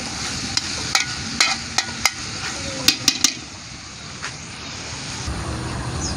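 A spoon scrapes and clatters in a pot as papaitan cooks, sounding as a series of sharp, irregular clinks over a continuous low sizzle, close and fairly loud, with no speech.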